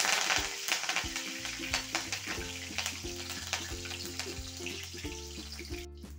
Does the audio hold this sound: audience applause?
no